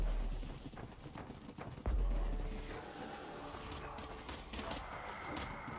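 Rapid rhythmic hoofbeats of a galloping horse in a video game over a low rumbling bed, with a sharp thud partway through, steady and moderately loud.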